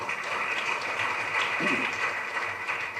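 An audience at a Tamil tribute event for director Seeman claps steadily, a dense, fairly distant wash of applause with a brief low murmur partway through.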